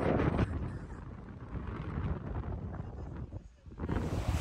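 Strong wind buffets the microphone on a blustery day with poor weather, a loud rushing roar that rises and falls in gusts, dipping briefly before surging again near the end.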